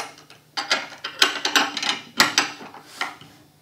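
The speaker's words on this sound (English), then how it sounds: "use an additional 16mm wrench in order to finish tightening down the lock nut" Wrench working a lock nut tight on the wooden base of an Orion SkyQuest XT8 Classic Dobsonian telescope, giving a series of close, irregular ratcheting clicks and scraping turns, about eight bursts with short pauses between.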